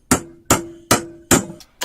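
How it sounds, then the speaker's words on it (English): Four solid blows from an antique hammer-wrench multi-tool striking nails at a steady, even pace, each a sharp metallic bang with a short ringing tail, close and loud. "let's see what it's like at banging in nails."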